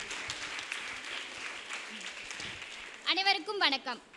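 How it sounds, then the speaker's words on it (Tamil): Applause from an audience at a literary festival debate stage, a few seconds of quiet, diffuse clapping before a voice starts speaking over the fading claps. "நல்ல கைதட்டுங்க"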